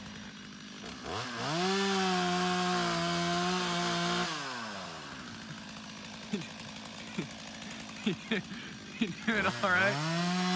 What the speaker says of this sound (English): He's going to town with the chainsaw.